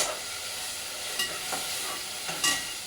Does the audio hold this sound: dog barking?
no